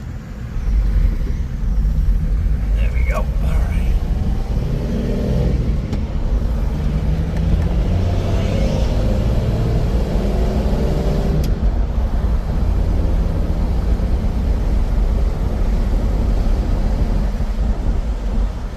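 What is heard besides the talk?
1965 Dodge Dart GT with dual Holley carbs driving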